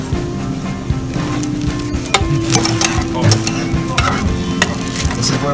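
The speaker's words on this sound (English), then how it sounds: "This meat is going to really start sizzling because it's the pork." Pork sizzles and crackles loudly in a hot pan while being stirred, with steady frying hiss and repeated scraping and clattering of the utensil, close up and without talk.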